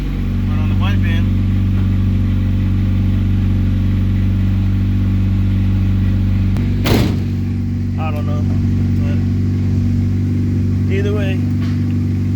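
A Honda Accord engine idles steadily in a shop, a constant low drone running throughout, with people talking over it.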